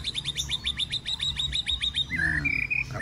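A young pet bird about one and a half months old, recovering from a cough, gives a rapid series of sharp, high repeated chirps up close, then shifts into a few longer whistled calls.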